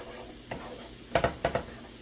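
Flour being stirred and browned in a pot for pot roast gravy gives a few quiet scrapes, then two pairs of sharper stirring scrapes over a faint sizzle.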